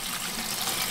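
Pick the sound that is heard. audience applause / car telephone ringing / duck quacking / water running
water running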